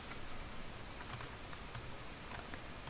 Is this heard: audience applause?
no